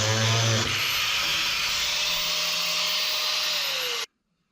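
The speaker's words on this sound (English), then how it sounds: "pull out the angle grinder" An angle grinder whirs at a high, steady pitch for about four seconds, running loud and close after a brief lower start, then cuts off abruptly into silence.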